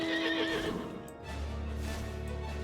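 A horse in Final Fantasy XIV whinnies loudly with a rising then falling neigh, followed by a low rumbling background and faint hoofbeat-like clatter.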